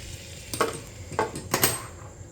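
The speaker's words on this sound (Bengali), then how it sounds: "কড়াইতে আমি মাখন দিয়ে নিয়েছি" Butter in a hot kadai gives a faint sizzle as a spoon scrapes through it in three quick, distinct strokes.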